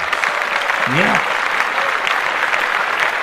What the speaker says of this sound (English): Let's clap that up right away.